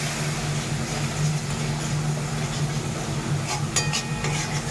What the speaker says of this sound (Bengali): হলুদ লঙ্কা দিয়ে ভালো করে কষিয়ে নিতে হবে